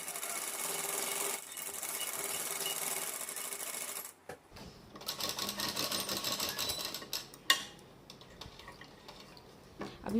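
A sewing machine stitches the seams of a front-slit gown, running in a steady whirring burst, pausing briefly, then resuming with a few short stops and starts close up.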